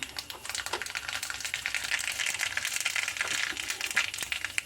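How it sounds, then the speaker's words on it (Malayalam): Mustard seeds sputter and crackle in hot oil for an Onam bitter gourd kichadi, a dense, steady run of sharp little pops and ticks, close and fairly loud, with no talking. "അപ്പോൾ നമുക്ക് എണ്ണ ചൂടായിട്ടുണ്ട്. കടുക് ഇട്ട് കൊടുക്കാം."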